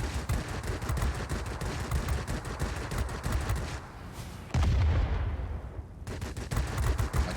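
Aircraft machine guns chatter in rapid bursts during a World of Warplanes dogfight involving a Japanese navy fighter, loud and dense at first, breaking off briefly, then resuming with engine roar.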